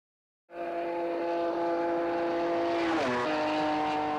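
A Toyota 2000GT sports car from 1965, co-developed by Toyota and Yamaha, starts with a sudden steady engine drone that holds close and loud, then dips and shifts in pitch about two thirds through before settling again.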